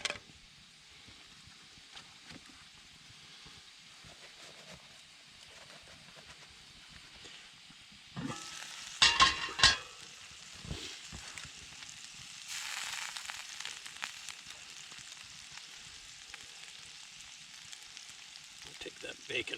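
Bacon frying over a campfire in the snow, a soft steady sizzle that swells into louder crackling and hissing bursts midway, with faint intermittent clicks and scraping; a voice is briefly audible.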